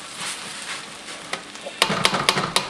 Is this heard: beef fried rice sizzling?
yes